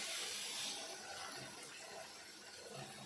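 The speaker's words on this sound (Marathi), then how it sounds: "आता आपण मटकी शिजण्यासाठी गरम पाणी मी केलं तेच टाकणार आहे" A steady rush of hot water pours continuously into a pan, close and moderately loud, with no voices.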